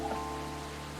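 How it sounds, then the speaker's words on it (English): Steady rain ambience in the Coffee Talk 2 video game, a continuous even patter under a faint music drone, with no speech. "Aw, Zane, a little rain won't hurt me"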